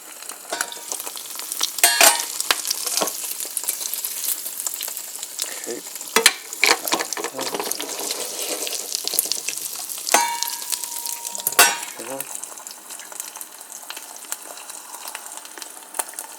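An egg fries in a pan with a steady crackling sizzle, broken by sharp pops and scraping knocks from a utensil, close and fairly loud throughout.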